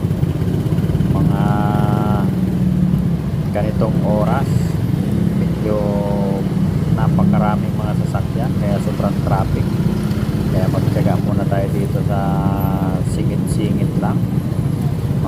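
Steady night traffic on EDSA with motorcycles and cars rumbling past, engines droning continuously, while someone talks over it and brief horn-like tones break through now and then.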